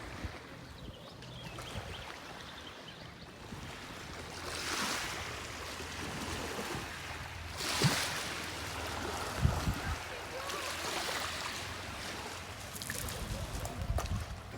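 Lakeside scene near a beach in France where a tourist boat passes, with soft waves lapping and a faint low motor drone under gusts of wind; quiet and distant, swelling in a few gentle surges.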